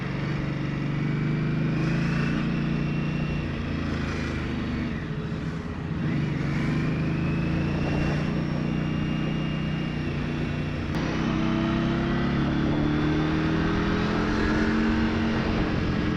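An Indian Scout Rogue motorcycle engine drones steadily while riding in first gear, a continuous low rumble with gentle rises in revs, mixed with wind noise and no talking.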